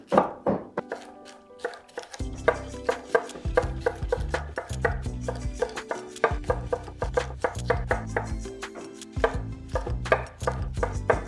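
A knife chops a bell pepper on a cutting board in a home kitchen, a fast run of sharp, close, steady knocks with short pauses, loud and alone with no talk.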